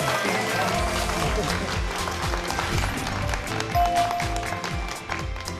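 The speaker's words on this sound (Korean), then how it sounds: "여러분 뜨거운 박수로 맞아주시길 바랍니다" A lecture audience claps to welcome a professor onto the stage, a sustained dense round of applause from a crowd, with a voice speaking over it.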